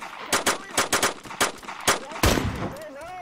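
Gunfire in the video game DayZ cracks out in a rapid series of sharp, loud shots at uneven intervals, ending in a heavier burst, with a voice faintly heard at the close.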